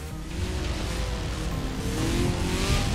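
A car in the video game Forza Horizon 4 spins its wheels, a loud steady engine roar with rising revs and tire noise running throughout, with no voices heard.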